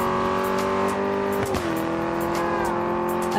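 An Alfa Romeo engine in TDU Solar Crown holds a steady, loud rev with a smooth harmonic drone and a brief dip and recovery midway, heard alone without talk.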